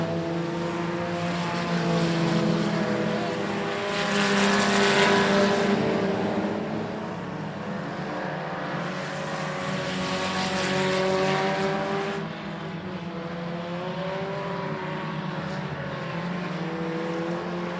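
Race cars circle I-37 Speedway in lap traffic, engines roaring loud with rising and fading harmonic whines as packs sweep past, sustained throughout.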